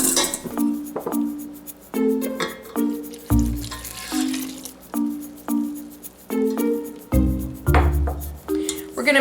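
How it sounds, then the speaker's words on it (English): Cinnamon roll dough ingredients and milk mixed by hand in a bowl, a rhythmic series of clinks and knocks against the dish with soft wet squishing between them. "I'm just going to mix these together by hand"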